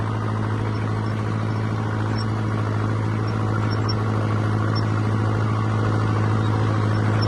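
A tractor engine drones steadily as it drives along a farm track and overtakes a Kubota tractor, a constant, fairly loud low hum with no break and no voices.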